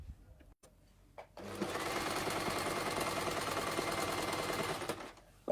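A sewing machine stitches a waist dart through lining and fabric layers together. After a brief quiet start, a close, steady fast mechanical whir runs for about four seconds and then stops.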